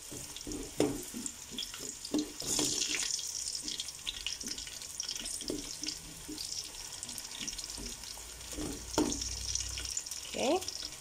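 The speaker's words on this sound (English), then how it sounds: "This is going to fry for a few minutes." Fish pieces frying in hot oil for a South Indian fish curry, a steady crackling sizzle with bursts of splatter and occasional clinks, close and fairly loud with no speech.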